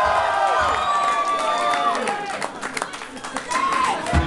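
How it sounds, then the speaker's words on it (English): Concert crowd at a gig in York cheering, whistling and clapping with a dense, roaring swell that stays loud throughout, with voices shouting within the mass. "Give yourselves a lot of round of applause."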